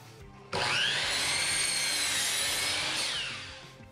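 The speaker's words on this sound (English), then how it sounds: "let's cut some 1/4 inch utility panel up into 6 inch strips" A power saw rips a 1/4 inch utility panel into strips, one loud, close cut lasting about three seconds with a high whine that spins up, holds and then fades away.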